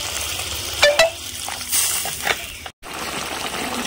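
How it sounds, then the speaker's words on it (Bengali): Spicy mustard-oil curry broth with small river mourola fish simmering in a pan, a soft sizzling bubble with a few sharp clinks of utensils and brief stirring scrapes, close up. "বন্ধুরা ঝোল ফুটে গেছে"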